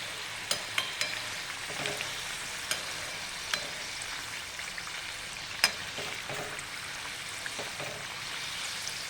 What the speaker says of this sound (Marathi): तेल तापलेलं आहे चांगलं एक दोन मिनिटं छान आपण हे कडबू तळून घेऊया व्यवस्थित सोनेरी रंगावर